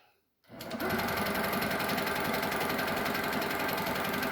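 An HQ Sweet Sixteen sit-down quilting machine stitches a wavy free-motion line, starting after a short near-silent moment and then running in a fast, steady, close mechanical chatter with no talk.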